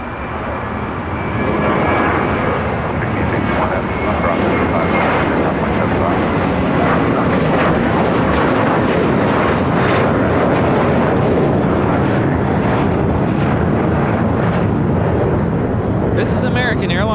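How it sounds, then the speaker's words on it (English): An Airbus A321 airliner in a special livery takes off from LAX bound for Atlanta, its engine roar swelling within the first two seconds and then holding loud and steady until a brief crackle near the end. "Airlines Flight 990 taking off to Atlanta on an A321 in the stand-up to cancer livery"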